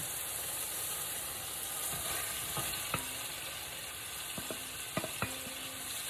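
Meat stirred into a big pot of cooked chicken and beef fajita vegetables, a steady frying hiss with a few sharp scraping clicks from the spoon, no voices.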